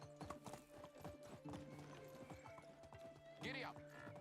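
Hooves clip-clop in a quick galloping rhythm as a horse runs through the medieval world of Medieval Dynasty, and a loud whinny cuts in near the end, all close and over low background game sound.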